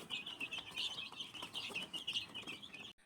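Many chickens in a fly pen clucking and chattering together while being fed, a busy continuous flock sound nearby with faint chirps mixed in, no talking.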